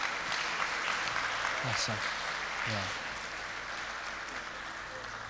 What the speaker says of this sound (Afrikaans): Kom ons gee vir hulle 'n groot hande klap.